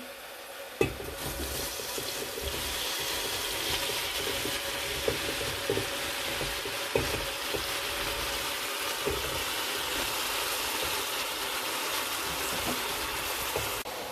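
Vegetables for Kurdish burani sizzle steadily in a hot pan, a continuous close frying hiss with occasional soft clicks of stirring and no talking.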